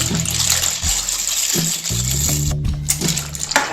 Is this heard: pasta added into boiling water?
yes